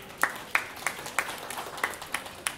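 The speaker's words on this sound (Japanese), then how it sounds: "皆様大きな拍手でお迎えください。" Applause welcoming a performing duo on stage at a store qualifier event at AEON Nagaoka: a sparse, fairly quiet run of separate hand claps at a steady pace, with no other sound above them.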